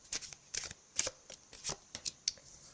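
Tarot cards being shuffled and drawn, a run of crisp, close riffling and snapping flicks in quick irregular bursts.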